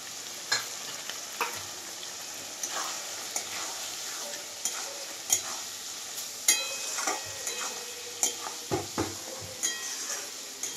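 Tamtum eggplant frying with a cumin, ginger and garlic spice paste: a steady sizzle under repeated spatula stirs and scrapes against the pan, close and continuous.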